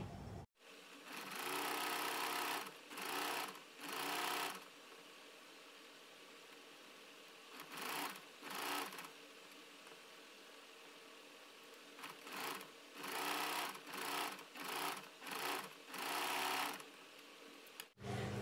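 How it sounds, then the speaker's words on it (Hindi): A sewing machine stitches along three folded edges of trouser fabric in a crisscross design. It runs in repeated short bursts with quiet pauses between them, fairly close and clear, with no talking. "अब हम कपड़े को तीनों साइड से इस तरह से फोल्ड करते हुए इसकी तीनों साइड सिलाई लगा लेंगे।"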